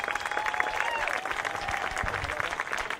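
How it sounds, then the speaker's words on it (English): Steady applause from a crowd at a scholarship reception, continuous clapping throughout with a faint whistle or cheer mixed in. "give all of those who are here today supporting you a round of applause"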